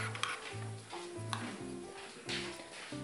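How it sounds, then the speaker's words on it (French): A cream sauce with onions is stirred in a pan, making soft, faint scraping and light sizzling that comes and goes in short strokes. "Tu peux mélanger."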